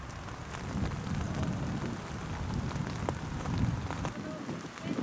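Steady rain patters on surfaces in a city park in Hiroshima on a spring day, a soft, continuous wash of drops heard up close with no talking.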